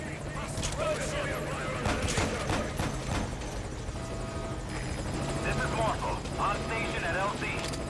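A helicopter in the video game Metal Gear Solid V: Ground Zeroes roars continuously with a thick rotor drone, while voices talk over it and sharp bursts like gunfire crackle in the mix.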